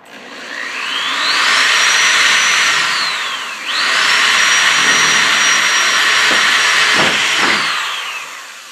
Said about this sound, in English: I'm going to drill inside a little bit.